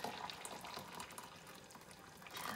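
Hot water is poured steadily from a just-boiled kettle into a measuring cup while preparing Jamaican Easter bun, a soft continuous splashing stream heard alone.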